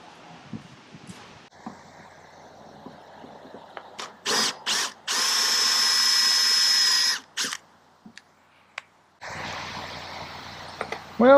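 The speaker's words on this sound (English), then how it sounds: "Looks like I'm probably drilling him out and using the stud." A power drill drills out a stud in several short whirring bursts, then runs in one long sustained grind, followed by more brief revs and a final burst.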